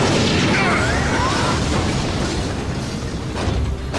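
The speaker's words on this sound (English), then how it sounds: "This would be a real good time to fire short-range missiles." Short-range missiles firing and exploding in a Saturday morning cartoon, a dense, continuous roar of booms and rumbling blasts filling the whole moment at high volume, with no talking.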